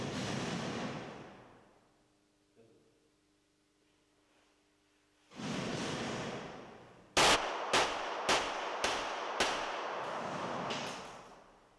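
Air rifle shots ring out at an indoor shooting range, a run of six sharp, evenly spaced cracks over steady room noise, close and loud.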